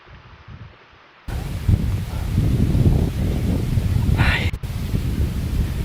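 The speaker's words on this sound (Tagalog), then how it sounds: "Rinig nyo ba yung hangin? Pag narinig nyo yung hangin, talagang napaka-presko nito." Wind blusters loudly against the microphone in a steady, rough rush after a quiet start, with a brief brighter gust partway through.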